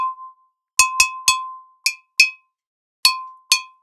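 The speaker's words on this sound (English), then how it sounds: "You can mute it some by holding the vase so it doesn't ring" A vase used as a percussion instrument, struck about seven times in an uneven rhythm, each hit giving a clear, bright glassy ring that decays quickly in otherwise silent surroundings.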